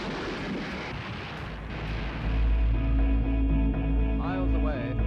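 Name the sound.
explosion roar in archive film footage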